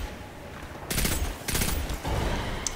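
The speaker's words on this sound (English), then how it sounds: "I'm shooting its legs." Bursts of video game gunfire in Destiny 2 as a player fires at an enemy's legs: three broad volleys, each about half a second, close and loud over a steady background hum.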